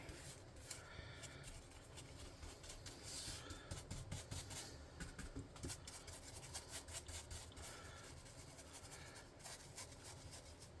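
A paint brush scrubs over a tabletop terrain model of a hangar, spreading pavement paint in quick, soft, scratchy strokes that repeat steadily and sound faint and close, with no talking.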